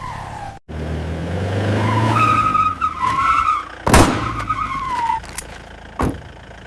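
A car speeds through a chase, its engine roaring close and loud while tires squeal and skid in drawn-out, wavering screeches, with a couple of sharp impacts.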